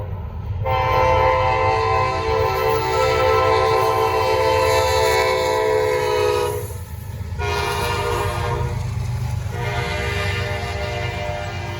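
BNSF-led freight train passing with its horn blowing in long loud blasts, a brief gap, then a final blast, over steady rumble and rail noise, close by.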